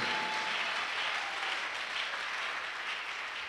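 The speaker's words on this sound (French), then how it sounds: "Give the Lord a big clap of praise." A church congregation clapping in praise during a service, a steady, fairly quiet wash of applause from many hands that continues evenly throughout.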